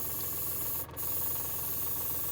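Airbrush with a 0.28 mm nozzle spraying a fine paint mist, a steady close hiss that holds almost unbroken, dipping briefly once, with no talking.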